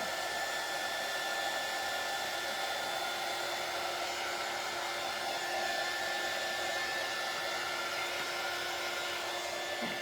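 A hair dryer blowing steadily on a vintage wooden shutter craft piece, a constant whirring hum at even volume for the whole stretch, with no speech.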